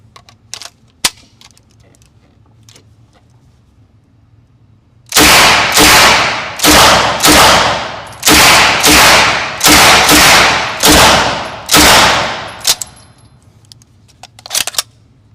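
Uzi submachine gun fired outdoors on a shooting range, with about eleven loud, sharp shots in fast bursts from close by, each ringing with a metallic clang, followed by quiet.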